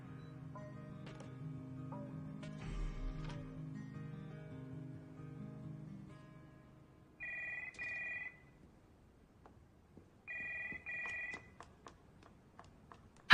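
An office telephone rings in two short bursts a few seconds apart, moderately loud over a low hum and faint background clatter.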